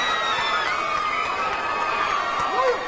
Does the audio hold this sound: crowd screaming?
yes